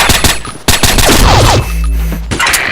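Rapid automatic gunfire in the online shooter Combat Arms, loud and close, with bursts of shots, metallic clangs and a booming low rumble, no talking.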